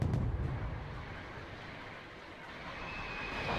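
Artillery barrage in the Wargame Red Dragon video game, a dense rumbling wash of distant blasts that swells at the start, eases in the middle and builds again toward the end.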